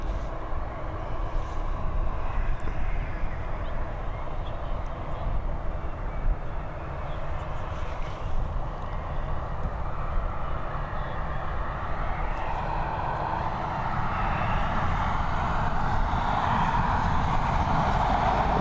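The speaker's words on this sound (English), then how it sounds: "we've got an Airbus A220 on its final approach now, coming in from Zurich" A Swiss Airbus A220 from Zurich on final approach to Dublin Airport, a sustained jet engine rumble and whine that holds steady and grows slightly stronger, heard alone without talk.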